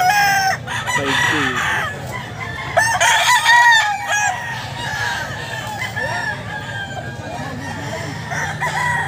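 A Boston Roundhead rooster crows loudly at a pet market, with several drawn-out cock-a-doodle-doo calls and clucking from other fowl nearby, while people talk in the background.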